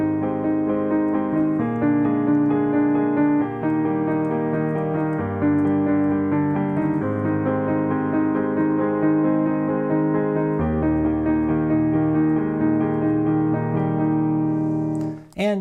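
Piano plays the accompaniment to a song at full tempo, with flowing repeated chords over a shifting bass, continuous and close, until a short noise at the end.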